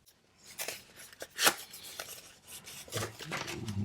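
A paper envelope from a self-care accessory box is opened by hand, with close, dry rustling and tearing scrapes building up and a sharper rip near the middle, alone without speech.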